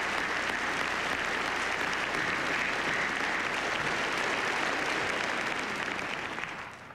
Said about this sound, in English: We have one more round of applause for these people that really have made all of this possible.